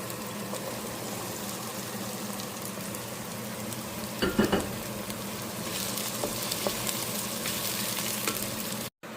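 Vegetables are added to a pot and fry while bisibelebath is cooked. A steady, even sizzle runs throughout, broken by a brief clatter midway, with no talk.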